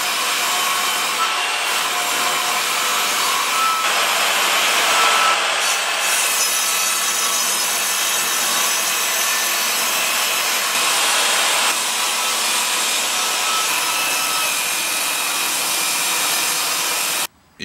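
Red cedar wood being sawn into thin strips about 6 mm by 2 cm for building a canoe; a close, loud, continuous power-saw whine and rasping cut runs for about seventeen seconds, then stops abruptly.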